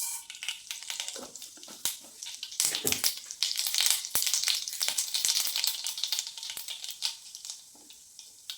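Mustard seeds crackle and splutter in hot oil, a sustained sizzle with sharp irregular pops, loud and close.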